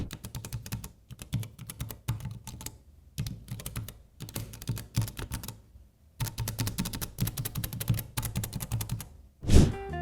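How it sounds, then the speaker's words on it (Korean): Keys clack in quick bursts on a Klackers one-hand 12-key keyboard with purple switches of about 50 g, close and crisp, separated by short pauses and ending in a louder thump. "그럼 간단하게 타건음을 한번 들어보시겠습니다"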